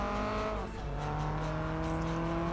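A Lancia Delta Integrale engine races in Project Gotham Racing 4, a loud sustained high-revving drone with steady rising tones and a brief dip, close and continuous.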